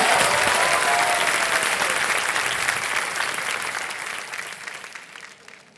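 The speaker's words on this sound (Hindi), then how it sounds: "तालियां बज जाए उनके लिए जरा" Steady applause from an audience, loud at first and gradually thinning and fading out over several seconds, with no one talking.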